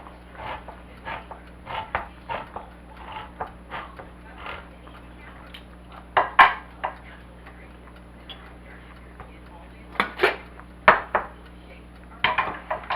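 A can of Bush's original baked beans being opened in a home kitchen, a run of sharp metallic clicks and taps from the opener, scattered then clustered near the end, close and fairly loud over a quiet background hum.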